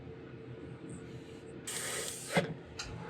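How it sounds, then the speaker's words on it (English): A spray can of red paint hisses in a sharp burst after a quiet stretch, followed by a short second spritz, close by. "May have to spray a little bit of the red."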